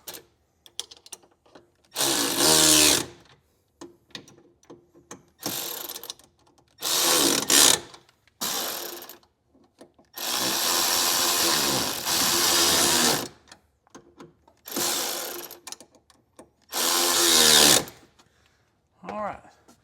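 A power tool tightens fasteners during an audio system install in a 2023 Ford Bronco, whirring in about seven short, loud bursts separated by quiet pauses.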